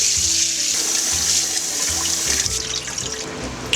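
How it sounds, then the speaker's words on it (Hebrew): Soaked rice for Uzbek plov is rinsed under a running tap, a steady close rush of water into the sink with low rhythmic sloshing as the grains are swished around. "אנחנו שוטפים את האורז שהשרנו אותו בהתחלה"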